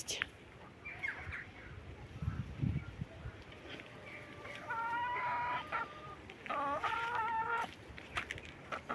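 Hens cluck softly and intermittently while pecking at greens and cabbage, with bursts of fuller clucking toward the end, heard at low level against a quiet outdoor background.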